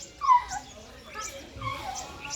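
A dog whimpers and yips softly while village children play with it outdoors in the morning, the thin cries rising in short bursts at moderate distance.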